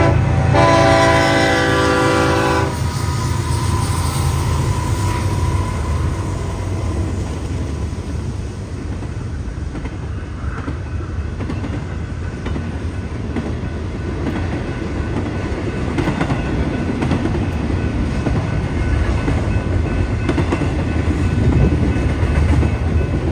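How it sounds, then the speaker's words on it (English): A BNSF eastbound intermodal freight train rumbles past in Oswego, a loud, steady roar of wheels and cars throughout with a short horn blast at the start. "one more eastbound in Oswego, a BNSF intermodal rumbling toward Montgomery."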